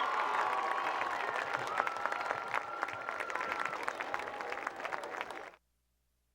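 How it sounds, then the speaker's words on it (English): Crowd applause rings out for the 2014 homecoming court at a varsity high school football game between Pocono Mountain West and East Stroudsburg South, a sustained distant clapping that fades and cuts off near the end. "How about one more round of applause for the 2014 Homecoming Court"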